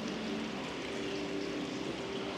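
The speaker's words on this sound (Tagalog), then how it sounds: "meron kang maririnig na tubig" Water runs steadily in an indoor water feature inside a large multi-floor cafe, a soft continuous flow heard alone at low level without speech.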